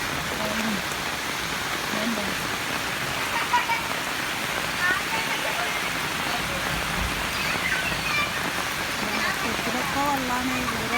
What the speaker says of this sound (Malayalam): ഇതാ ഞങ്ങളവിടെ ഇന്ന് മഴ പെയ്തതാട്ടോ. വളരെ സ്റ്റെപ്പിലേക്കൊക്കെ വെള്ളം വന്നിട്ടുണ്ട്.